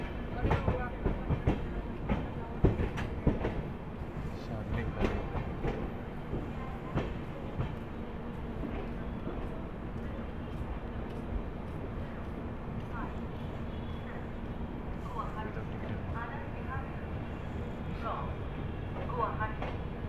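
The Sairang–Anand Vihar Rajdhani Express rolling toward Malda Town station, a continuous rumble with rhythmic wheel clatter on the rails, heard from on board at steady, moderate loudness for the whole stretch.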